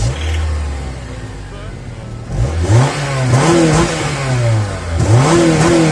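A Honda moped engine revs in repeated rising bursts, climbing and falling in pitch several times at close range after a steadier idle, with voices talking over it.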